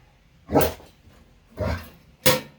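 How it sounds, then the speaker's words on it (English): A dog barks three times in separate bursts, close and fairly loud, near a newly set-up stove inside a tent, with quiet gaps between the barks. "You're gonna bark at the stove."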